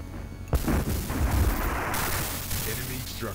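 Heavy booming explosions destroy an enemy structure in the Dune 2 video game, a loud cluster of blasts and rumbling in quick succession that fills the whole clip.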